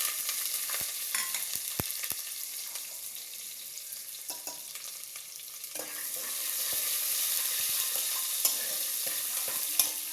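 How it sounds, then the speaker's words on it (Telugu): Ginger and onion pieces frying with dried red chillies in hot oil for a spinach dal, a steady close sizzle with scattered pops and stirring scrapes, growing slightly louder partway through, no talking. "బాగా వేడి కొంచెం రెడ్ కలర్లో రావాలి ఇది అల్లం ముక్కలు ఉల్లిపాయ ముక్కలు అన్నీ వేయాలి"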